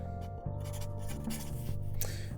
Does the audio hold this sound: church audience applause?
no